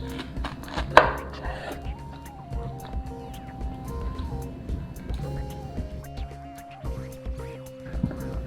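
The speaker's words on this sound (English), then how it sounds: "Cut it in slices." A knife chopping vegetables on a board, first into slices and then cubes, with quick irregular blade taps and a louder knock near the start over a faint tonal background.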